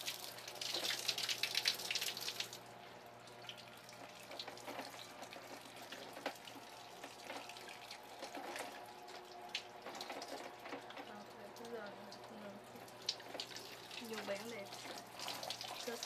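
Water running for a bath, a steady hiss of flowing water at home, loudest in the first couple of seconds and then softer and continuous; no talk over it.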